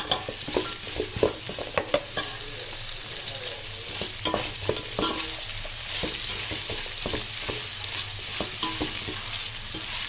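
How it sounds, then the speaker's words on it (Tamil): Large, thinly sliced onions sautéing for kuska biryani make a steady, close sizzle, punctuated throughout by rhythmic scraping and clacking of a spoon stirring the pan, with no voices. "இதை இப்போ இந்த வெங்காயம் நல்லா வதங்கணும்."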